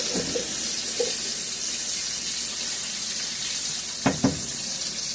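Flipped pork chops frying in oil in a small pan, giving a steady, close hiss of sizzling with two brief louder pops near the end and no talking.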